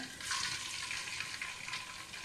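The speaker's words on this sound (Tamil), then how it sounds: "இப்போ முட்டையை உடச்சி ஊற்றிடுங்க ரெண்டு முட்டைங்க" Two eggs are cracked and poured into a frying pan over browned onions on a street-food fried rice stall, giving a soft, steady hiss and sizzle at low level with no talking.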